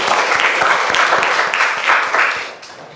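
Students in a classroom give a short burst of applause, brisk uneven clapping from a group of hands that swells, then tapers off near the end.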